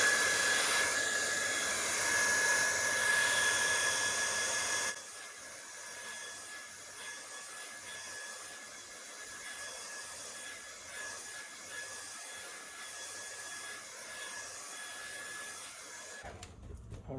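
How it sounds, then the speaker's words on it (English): A hot air tool blows around the edge of a Samsung Galaxy Tab A9 SM-X110 tablet to soften its adhesive, a steady loud whoosh for the first five seconds that then drops to a quieter continuous hiss until near the end. "We're going to blow some hot air around the edge."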